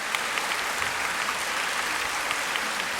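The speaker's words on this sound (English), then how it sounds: "I think you deserve a warm applause." Steady applause from an audience, dense clapping at an even level throughout with no voices over it.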